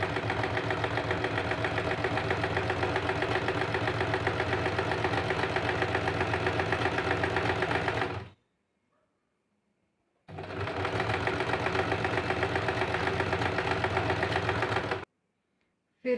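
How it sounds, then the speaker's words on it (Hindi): A sewing machine stitching blouse lining to a princess-cut blouse runs in a steady, dense mechanical whir for about eight seconds, stops for two, then runs again for five seconds before stopping. "उसके लिए हम नीचे से इस प्रकार से पहले सिलाई करते हैं और अस्तर और ब्लाउज़ एक दूसरे से जॉइन करते हैं"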